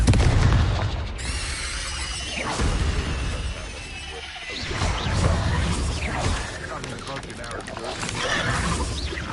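A spell explosion from the Confringo blasting curse in Hogwarts Legacy, a video game: a loud booming blast with rumbling crash and debris under a dense roar of battle noise.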